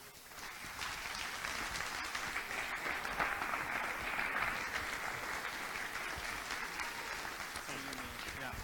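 An audience at an evening marketing event breaks into steady, continuous applause, dense clapping from a sizeable crowd sustained for about eight seconds at an even level, with faint voices mixed in.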